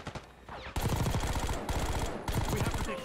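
The SAUG submachine gun fires in Black Ops 6 in loud, rapid automatic bursts: a short quieter stretch, then sustained rattling fire with a brief gap before another burst.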